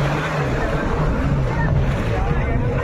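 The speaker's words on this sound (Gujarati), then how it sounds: "હાલો આમાં બેહવાનું છે આપણે બોટમાં બેસી જઈ" A boat out on the water in Goa during water sports hums with a low engine drone, buffeted by wind noise, while voices chatter in the background.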